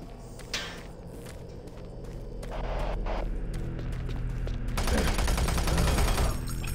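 Rapid gunfire in Doom 3 rattles over a loud, busy background of game noise, with sharp bursts early on and a thicker, more intense barrage in the last couple of seconds.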